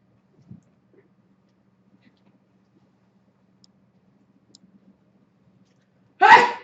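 Near-silence with a few faint clicks, then a single sharp, loud sneeze bursts out at the very end.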